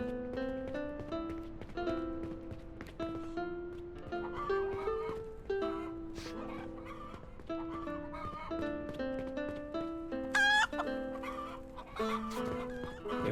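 Possessed chickens in the video game Noble Legacy cluck and squawk continuously, many overlapping calls layered over game music, with a brief higher burst near the end and no talk.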